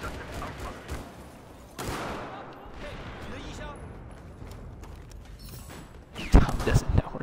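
Video game gunfire cracks out in scattered bursts, with a sharp volley around the middle and a louder, denser barrage at the end, all over a constant bed of game noise.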